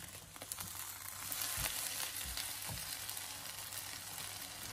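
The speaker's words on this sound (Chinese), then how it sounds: "这个时候我们立刻的调为大火，将腐竹快速的翻炒均匀" Bean curd sticks and wood ear fungus stir-fry in a wok over high heat with a little water, giving a steady, dense sizzle and hiss with a few soft clacks of the spatula.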